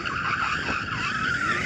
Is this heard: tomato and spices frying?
no